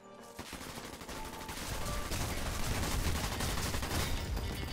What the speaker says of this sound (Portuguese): Só os caras matando de metralhadora, ó.